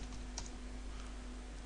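Keyboard typing during an After Effects tutorial, a few faint quick key clicks near the start over a steady low electrical hum, otherwise quiet.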